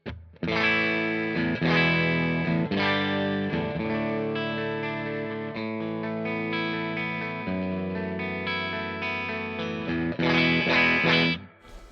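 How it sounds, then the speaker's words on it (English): Clean electric guitar played through an amp with a touch of spring reverb, chords and single notes ringing steadily, close and moderately loud. "This is just the amp. So I've got a little bit of reverb, fairly clean."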